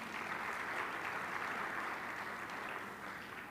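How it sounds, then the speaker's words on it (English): Steady, fairly faint applause from an audience at an international youth dialogue event washes evenly for a few seconds, a diffuse hall-wide clatter of hands that tapers slightly at the end. "we ought to give that representation from 18 countries a round of applause"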